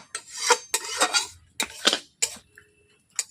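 Semolina being stirred as it dry-fries over low heat in a pan, giving bursts of scraping and clinking of a utensil against metal in several quick strokes, with short pauses between them.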